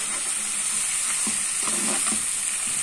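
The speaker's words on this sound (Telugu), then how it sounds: "ఈ మసాలాలన్నీ బాగా ఇప్పుడు పట్టేటట్టు కలుపుకోవాలి ఫ్రెండ్స్" Masala spices being stirred into radish sambar in a pan: a continuous close sizzle with a few soft scraping strokes of the spoon, and no voices.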